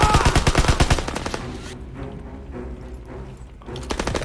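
Rapid bursts of automatic gunfire in Call of Duty: WWII rattle loudly at first, then give way to a duller, sustained rumble of shooting and game noise.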